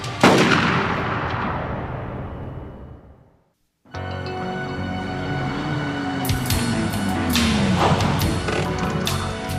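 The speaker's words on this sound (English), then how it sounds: "Passerby heard gunshots" Gunfire in a crime-drama scene: a loud, sharp burst of shots opens and rings away into a brief silence, followed by continuing noisy action with a rising and falling tone.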